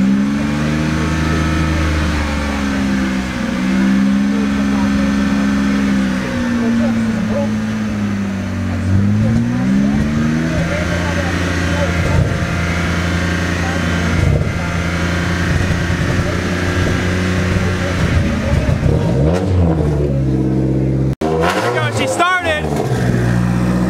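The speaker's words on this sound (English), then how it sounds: "Gotta rev up the beam a little bit." A car engine revs and climbs through its gears while a daily-driven drift car is on the move, loud and steady throughout, with people talking over it and a sharp burst of revving near the end.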